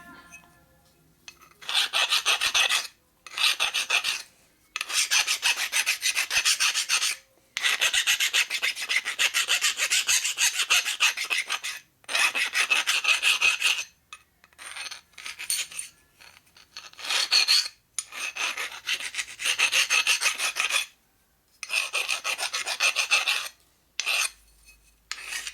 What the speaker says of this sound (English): I gotta deburr these holes right here though